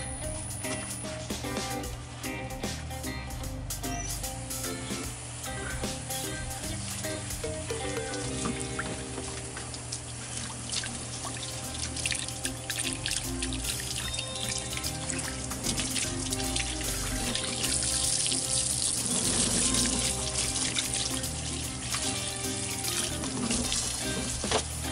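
Tap water runs steadily into a sink while a remora fish is cleaned, a continuous splashing rush with clattering handling noises throughout.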